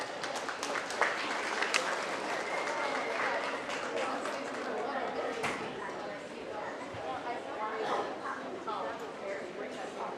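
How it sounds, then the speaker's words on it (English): An audience at a 4-H goat show at a county fair breaks into sustained applause, a dense crowd of clapping with some cheering mixed in. "Let's give them a round of applause."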